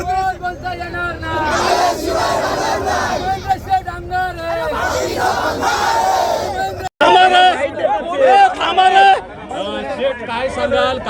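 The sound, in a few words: political supporters cheering and celebrating an election victory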